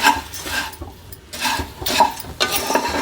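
Puffed rice being stirred as it roasts in a pan for laddu, giving close, dry rustling and scraping sweeps that rise and fall with each stroke.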